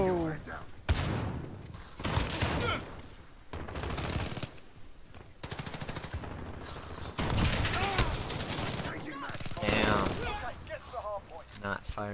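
Rapid gunfire from Call of Duty: Modern Warfare multiplayer with an MP5, loud repeated bursts and shots under near-constant talking from a player.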